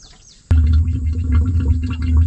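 Motor oil pours into a Toyota Land Cruiser engine, a steady, close gurgling stream that starts abruptly and continues loud and unbroken.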